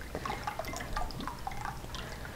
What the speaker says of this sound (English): Then we're going to add balsamic vinegar.